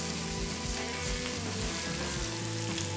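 Onions and garlic frying in a pan, scraped around to lift browned fond off the bottom; a dense, continuous sizzle with repeated scraping strokes, close and fairly loud, with no talking.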